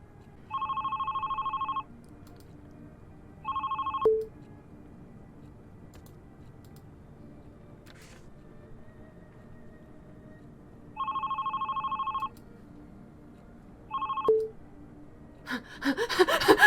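In the game Love, Sam a telephone rings in two pairs of electronic bursts, each followed by a sharp click as the call is cut off, then quiet, with a rustling scramble at the end.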